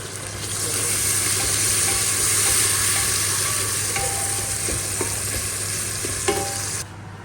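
Spices (ground cumin, turmeric, salt, garam masala and coriander) fry in a pan with a continuous close sizzle, while a utensil scrapes and stirs in scattered taps and a steady background hum runs underneath.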